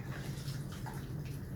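Water poured from a container onto potting soil in an apartment planter, a steady close gush of liquid that continues without pause and with no talk.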